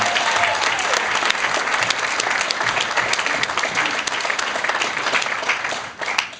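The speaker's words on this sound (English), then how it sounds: "can we have another round of applause for the bridesmaids and Kerrie's friends?" Wedding guests give a sustained round of applause for the bridesmaids during a best man speech, a dense, fairly loud spread of clapping that holds steady before tapering slightly at the end.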